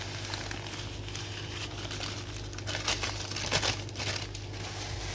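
A plastic bag of salt crinkles and rustles steadily as it is handled close by during lemon pickling, with busier crackling bursts in the middle and no talk.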